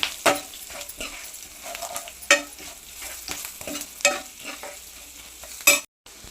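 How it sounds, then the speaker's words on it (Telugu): Okra fry with turmeric is stirred in a pan, repeated spatula scrapes cutting through a constant close sizzle, then a sudden cutoff at the end, with no one talking. "ఇలా పసుపు వేసుకున్న తర్వాత ఇలా కలుపుకుందామండి"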